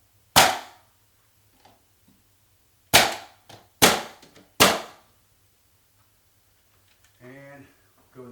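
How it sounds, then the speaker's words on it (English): A pneumatic nail gun fires four sharp, loud nailing shots into window wrap, one alone and then three in quick succession, with faint clicks between and a voice speaking briefly at the end. "Let's go ahead and finish nailing this off."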